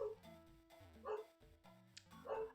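Pet dog named Rossi barking indoors, a few moderate yips and barks spaced across a couple of seconds over a low electronic game tune.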